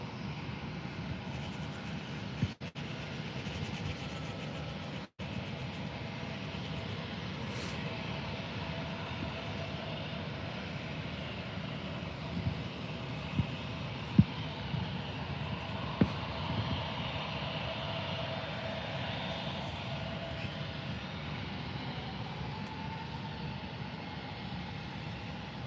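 A TUI airliner takes off from Faro airport bound for Düsseldorf, heard as a faint, distant jet roar that holds steady and continuous, with a few small clicks.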